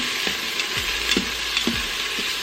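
Onions sautéing in a hot Instant Pot, a steady close sizzle with a few soft scrapes and stirring taps, no voices.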